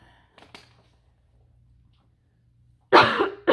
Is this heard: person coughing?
yes